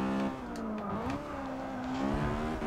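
Honda Civic engine in the Forza 6 racing game revving hard near the limiter, a loud buzzing drone that dips briefly and climbs back, steady and close for a few seconds.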